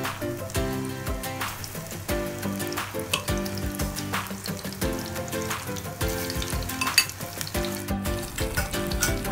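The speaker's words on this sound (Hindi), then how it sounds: "हमें मीडियम फ्लेम पे इसे फ्राई करना है।" Okra frying in oil over a medium flame, a dense rain-like sizzle that runs throughout, close and steady, with a faint tonal hum underneath and no voices.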